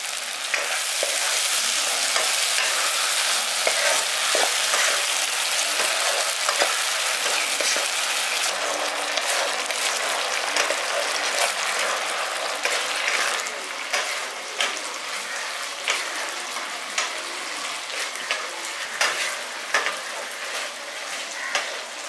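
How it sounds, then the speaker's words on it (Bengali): Tomato, dried mango and date chutney cooking in a village-style pan, stirred after adding half a cup of sugar: a steady loud sizzle with repeated scraping strokes of the spoon, no voices. "চিনিটা দিয়ে ভালো করে মিশিয়ে নিয়েছি।"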